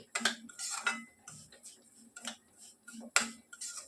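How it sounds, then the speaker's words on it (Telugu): Semolina frying in a pan is stirred with a metal spoon, giving repeated close scraping and light clinking strokes in an uneven rhythm, fairly quiet and with no voices. "చూసారా, మనకు బాగా గోల్డెన్ కలర్లో వచ్చేంత వరకు దీన్ని కలుపుతూ మనం ఫ్రై చేసుకోవాలండి."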